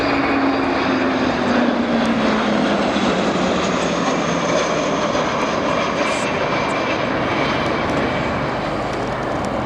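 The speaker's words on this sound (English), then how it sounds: "the Sentry, meanwhile, the RAF contribution to the NATO Airborne Early Warning and Control Force" An RAF Boeing E-3 Sentry airborne early warning aircraft flies past at a station flypast, its engines a loud, sustained roar with a slowly falling whine as it passes.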